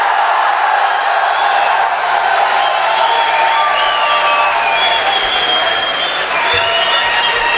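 An audience at a mushaira poetry night claps and cheers in a sustained, loud wave of applause that fills the hall, with faint voices mixed into the crowd noise.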